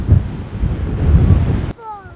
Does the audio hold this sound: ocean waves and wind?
yes